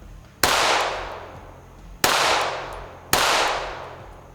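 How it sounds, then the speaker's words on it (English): Three sharp gunshots ring off steel targets on an outdoor range, fired through a Swampfox Kraken enclosed red dot sight; each loud crack decays into a short metallic ring, spaced about a second or more apart. "Shoot some steel here."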